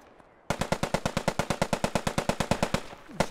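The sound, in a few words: machine gun fire in a World War II video game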